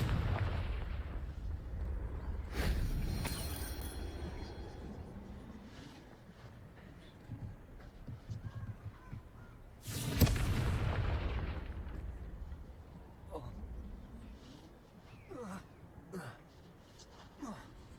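Fiery spell blasts burst out in the Hogwarts Legacy game, two heavy booming explosions with crackling tails among lighter impacts, set against game ambience and occasional voices.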